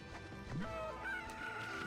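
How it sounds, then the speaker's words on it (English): Chickens in the video game Okami HD cluck and squawk in a few short calls over ambient game music, close and moderately loud. "We got some chickens."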